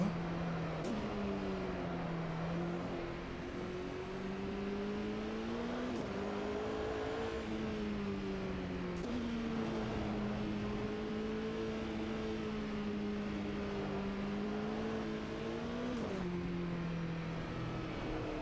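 Porsche race car engine in Automobilista 2 on a slippery wet track, a steady loud drone alone throughout that rises and dips in pitch through gear changes and corners, with no talk over it.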